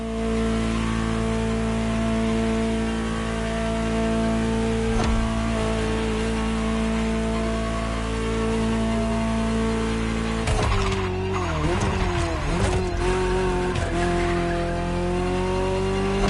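Ferrari GTO engine in the video game The Crew Motorfest holds a steady loud drone, then revs rise and fall sharply with shifting pitch and tire noise in the second half.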